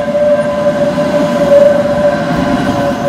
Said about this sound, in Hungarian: Közben érkezik a 28-as.